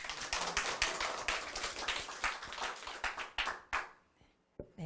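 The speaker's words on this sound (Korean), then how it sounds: "박수 한번 보내주시겠어요?" A small audience at a Korean children's literature book launch claps with distinct, separate hand claps, thinning and fading out toward the end before a couple of stray claps.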